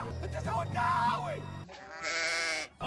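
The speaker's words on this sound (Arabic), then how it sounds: "جانا العيد وهنعيد ونضحك يا خروف سيد." A cartoon Eid sheep bleats in a wavering, voice-like cry, followed by a second higher, strained bleat, loud and close in a comic animated scene.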